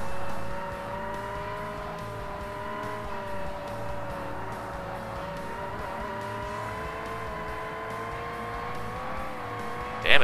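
Race car in Forza Motorsport sliding with sustained tire squeal, wavering tones over a steady engine drone, ending in a brief louder burst.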